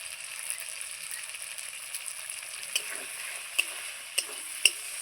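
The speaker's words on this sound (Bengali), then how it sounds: "এই দেখুন মশলাটাও কত সুন্দর ভাজা হয়েছে বলুন।" Tomato spice masala sizzling and frying in oil for a Bengali-style pabda fish curry, a steady hiss with occasional sharp clicks of a spoon stirring against the pan.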